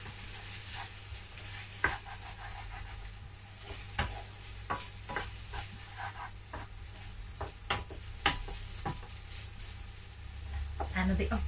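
Prawns stir-fried with garlic and pepper in a wok, a soft steady sizzle broken by repeated sharp scrapes and taps of the spatula against the metal, close and moderately quiet.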